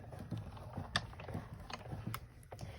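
A die-cutting machine cranks a die sandwich through in a single pass, giving quiet, irregular mechanical clicks and ratcheting knocks close by.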